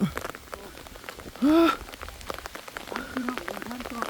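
Heavy rain patters in a dense, continuous spray of drops on surfaces nearby, with a voice briefly calling out over it partway through.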